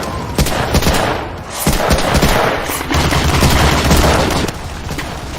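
Toy gun shooting game producing loud electronic gunfire, rapid machine-gun bursts and booming shots that rattle on almost continuously.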